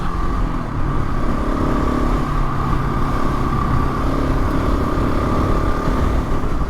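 A Husqvarna 701 Enduro motorcycle's single-cylinder engine drones steadily and loudly throughout, with a broad rumble and a sustained tone that holds near constant rather than climbing sharply, and no voices on top.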